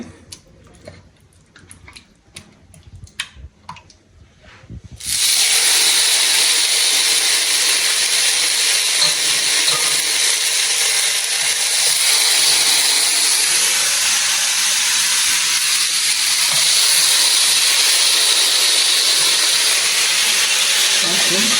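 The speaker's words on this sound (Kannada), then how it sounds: "ಇವಾಗ ಅದನ್ನು ಫ್ರೈ ಮಾಡಬೇಕು. ತವ ಮೇಲೆ ಫ್ರೈ ಮಾಡೋಣ." Green masala marinated fish hits a hot tawa after a few seconds of light ticks and clatter, and a loud, steady frying hiss then holds unbroken for over fifteen seconds.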